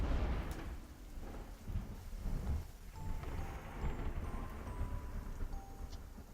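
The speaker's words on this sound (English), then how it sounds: "Thunder cracks above us loudly," Thunder rumbles and cracks loudly in a storm, over steady heavy rain and gusting wind, the low booms rolling across the whole stretch.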